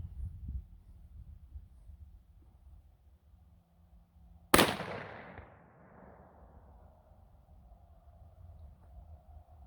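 A single sharp gunshot from a long-seated .454 Casull handload with 34 grains of powder behind a 300-grain bullet, loud and close with a ringing decay, set against quiet outdoor background hum before and after.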